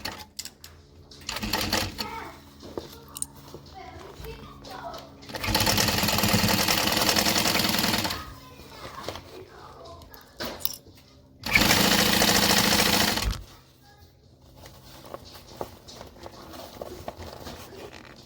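A sewing machine stitches a seam on a Hullabaloo Hobo bag in two loud, steady bursts of about two seconds each, separated by quieter handling of fabric.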